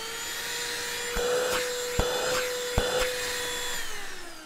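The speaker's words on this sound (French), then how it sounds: "il fait beaucoup de bruit, mais vient la période de Noël, donc du coup peut-être que quelqu'un de votre famille voudra avoir un petit aspirateur à main" Small handheld vacuum cleaner droning at a steady high whine, loud and close, with a few sharp knocks and brief bursts of louder airflow as it moves, and no voices.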